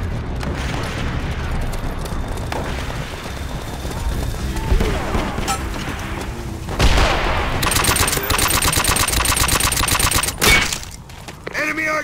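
Enemy artillery and heavy gunfire in the Call of Duty: World at War team deathmatch, with booming blasts and rapid bursts of shots, including a dense crackling volley late on, while voices call out over the din.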